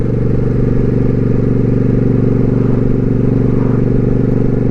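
Motorcycle engine on a morning ride, a loud, steady low drone with constant mechanical rumble throughout, no talking.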